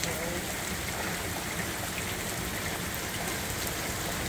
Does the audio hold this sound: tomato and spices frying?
no